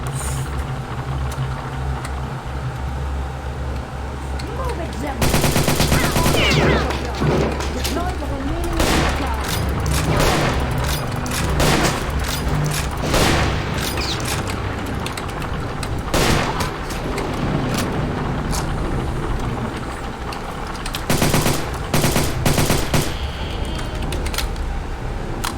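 Sustained automatic weapon bursts from an MG42 machine gun in the video game RealRTCW, dense rapid fire running almost continuously with louder surges, mixed with explosions and engine rumble, while a voice talks over it.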